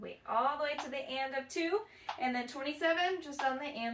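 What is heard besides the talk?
None of the usual background noises is heard.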